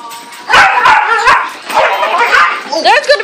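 A dog barks and yips loudly at close range in short excited bursts with whimpering, playing over a bone, while people talk in between.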